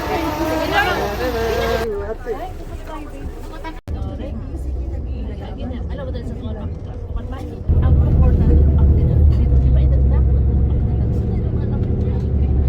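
A tour bus engine idles in Jerusalem as a low, steady rumble that grows louder and heavier partway through, with people talking nearby over the top.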